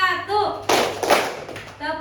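A class of children claps twice together during a focus clapping game in a classroom: two sharp, close claps in quick succession, with children's voices and a teacher's talk around them.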